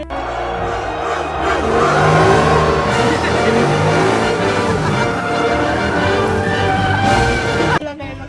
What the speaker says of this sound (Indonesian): Lalu juga ada mobil McQueen teman-teman.